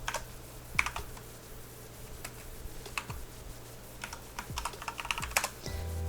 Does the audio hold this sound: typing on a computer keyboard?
yes